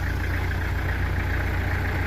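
A car engine runs steadily while driving through thick flood mud on a Gamka river crossing, a continuous low rumble with constant loudness and no talk.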